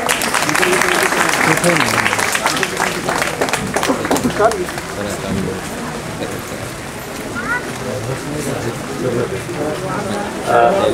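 An audience applauds at a Kathin robe-offering ceremony at Shravasti Buddha Vihar, Dwarkapuri. Loud, sustained clapping fills the space, with crowd voices mixed in throughout.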